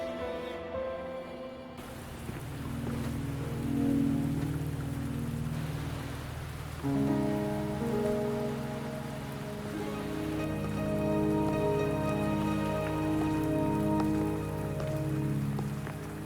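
Steady rain falling in Wuthering Waves, a dense, even patter on surfaces that lasts throughout, with soft tonal game music underneath and no voices.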